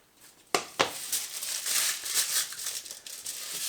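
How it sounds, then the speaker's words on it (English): Aluminium foil is folded up at the edges into a small tray, making sharp crinkles followed by a continuous close crumpling rustle. "we can get our bit of foil. And what I'll do is I'll just create a little tray by just folding the edges up"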